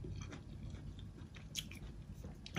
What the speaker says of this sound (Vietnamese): Giờ mình lấy trái này mình cắn ăn nha